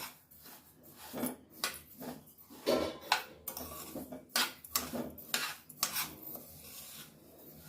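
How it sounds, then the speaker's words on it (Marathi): Sesame seeds, white with a little black sesame added, stirred and roasted in a dry pan over a very low flame: soft scraping and rasping of a spatula against the pan with irregular clinks, fairly quiet, no voices. "आपण हे तीळ भाजून घेणार आहोत"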